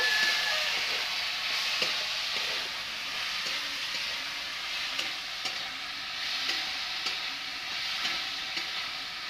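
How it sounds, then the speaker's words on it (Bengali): Paste of ground mustard, onion and green chili fries in a pan with an even, steady sizzle, punctuated by occasional stirring clinks, loud and close with no talking. "এখন মশলা বাটাটা আমার এটা আমি ভাজে নেব"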